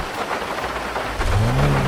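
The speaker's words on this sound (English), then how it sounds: "you will hear the drops hitting the roof." Rain drops drumming on the roof of an old car in GTA 5, a dense, even patter heard from inside, with a low rumble rising beneath it near the end.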